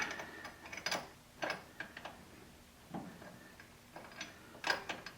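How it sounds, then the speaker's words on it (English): Wrench ratcheting and clicking on a fuel regulator hose fitting under the hood of a 1969 Camaro, in tight quarters: several short metallic clicks and clacks in irregular bursts, close and fairly faint, with no talking. "now we just got a wrench on there and tighten that dude up"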